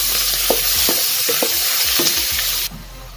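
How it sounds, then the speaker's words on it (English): Pork, garlic and onions fry in a pan with a loud, steady sizzle up close. Rhythmic scrapes of stirring run through it before the sizzling suddenly drops quieter near the end. "Okay, put the garlic first. Then add the onions. Then add the pork."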